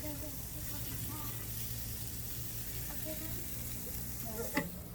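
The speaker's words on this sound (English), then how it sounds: "When you're cooking high heat like this, shrimp does not take long at all to cook." Shrimp sizzle and fry in a hot pan over high heat, with a steady close crackle broken by a few stirring scrapes and one sharp clink near the end; a voice talks intermittently over the cooking.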